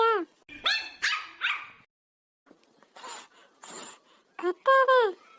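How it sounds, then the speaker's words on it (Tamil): A few high-pitched yips and short barks from a small puppy, close by, with brief pauses and some sharp hissy sounds in between. "நாய்க்குட்டி வேற ரொம்ப கத்துது"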